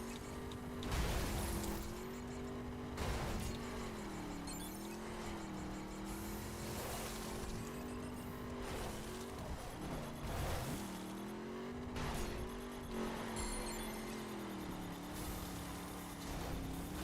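A race car in a video game accelerates on nitrous, its engine a loud, continuous droning rev whose pitch wavers and swells steadily without pause.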